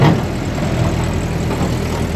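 A Jeep engine idles close by, a loud, steady low puttering rumble with no talk.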